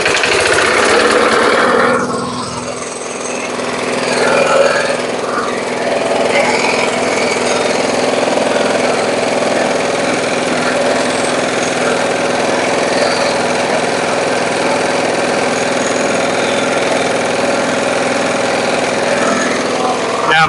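A Briggs & Stratton small engine with a diaphragm-type carburetor runs steadily and loudly up close after a brief revving surge at the start, a continuous rough mechanical drone throughout.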